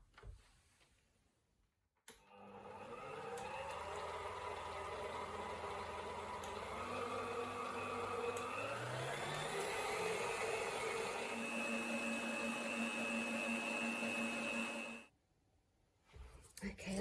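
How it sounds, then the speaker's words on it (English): Countertop blender whirring through a vegan cream cheese cheesecake mixture, a loud steady motor drone lasting about thirteen seconds with the pitch shifting as the batter thickens, then cutting off abruptly. "we're going to be blending it until it becomes really thick and creamy."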